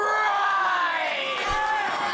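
A crowd at an independent professional wrestling show shouts and cheers in one loud, sustained wave of massed voices, with a brief thump partway through.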